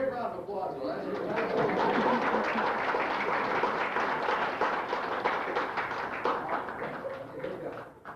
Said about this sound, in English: Give her a big round of applause, though.